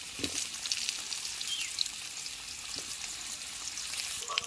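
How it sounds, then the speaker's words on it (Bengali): Cut potatoes frying in hot oil, giving a dense continuous sizzle with faint spatter and light stirring, close and with no voices. "তার প্রথম আলু কাটা ভেজে নেব"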